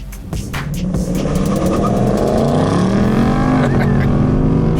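A 2019 Ford Mustang GT fastback with its 450-horsepower 5.0 V8 and automatic gearbox accelerates hard, its loud, close engine note climbing steadily in pitch through the gears.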